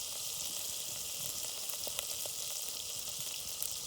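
Pork and eggplant fry in hot oil, giving a faint, continuous crackling sizzle with scattered small pops throughout and no talking.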